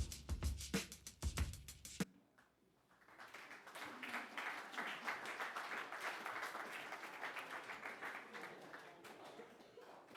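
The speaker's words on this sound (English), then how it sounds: "You all are clapping like I wrote that rap." An audience claps after a rap performance, the applause rising after a loud burst of voices and then carrying on steadily and moderately loud for several seconds.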